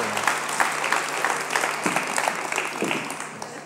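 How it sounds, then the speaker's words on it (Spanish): Steady crowd applause at a live comedy show, close and sustained throughout with individual claps popping out of the dense texture. "Fuerte el aplauso"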